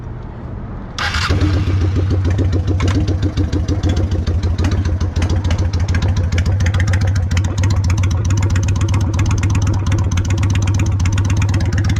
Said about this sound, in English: we have to turn on the bike for a bit and let it run